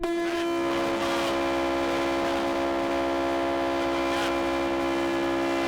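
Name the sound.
cargo train departing in Mauritania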